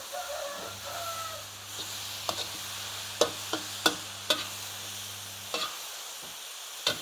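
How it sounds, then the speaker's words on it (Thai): Pak kan jong greens stir-fried fast with sun-dried pork in a pan, a steady crackle with scattered sharp utensil clacks against the pan, a rooster crowing and a low hum in the background, no talk. "ผัดอย่างไวเลยค่ะ"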